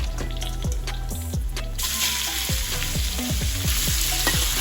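Garlic and pork fry in a hot pan with loud, continuous sizzling and bubbling, plus repeated scraping and clinking of a utensil stirring the meat.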